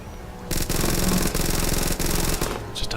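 Robot boss in the video game Starbound firing rapid shots, a dense, loud burst of gunfire that runs nearly continuously for about two and a half seconds with brief gaps.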